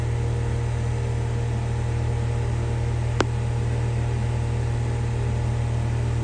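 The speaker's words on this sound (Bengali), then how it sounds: "ডাব চিংড়ির জন্য নরম ডাব পিষে নেব মিক্সি জারে।" A mixer grinder jar grinding soft tender coconut for a prawn dish runs as a loud, steady motor whine throughout, with one sharp click partway through.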